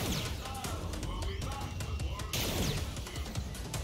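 Dense, continuous gunfire and crackling blasts from the Face Melter weapon in a video game, with rapid overlapping bursts and impacts filling the scene at steady volume while a player talks over the action.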